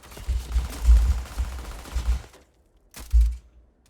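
Rapid bursts of automatic gunfire in the sci-fi shooter Starfield, loud and close, rattling in several clusters before a pause and one final burst.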